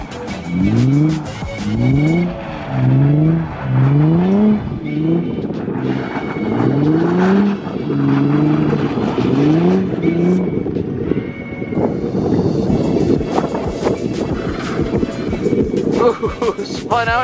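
A JDM Nissan Fairlady Z revs hard and slides out in the snow, its engine rising and falling in repeated loud sweeping surges over a steady roar, with voices talking throughout.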